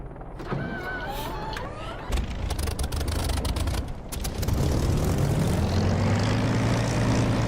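Aircraft engine spinning up in the DCS flight simulator game, a steady loud whine and roar that swells and builds over several seconds, with faint clicks of cockpit switches early on.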